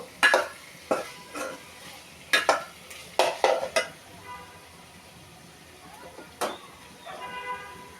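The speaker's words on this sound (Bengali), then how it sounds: "আলু সব কিছু দিয়ে কষিয়ে নিলাম ভালোভাবে।" Potatoes sautéed with spices in a pan, heard as a faint sizzle broken by several sharp scrapes and clanks of a spatula against metal, irregularly spaced.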